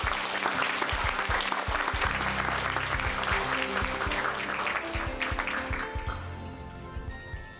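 Warm, dense applause from a lecture audience welcoming a speaker to the stage, many hands clapping steadily with footsteps and shuffling mixed in, tapering off toward the end.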